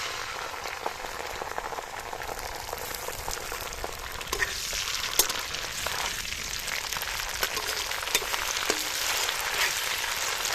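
Ginger garlic paste frying in hot oil with onions already browned deep red, for a restaurant-style chicken curry: a steady, dense sizzle with faint crackles, close and continuous throughout with no talking.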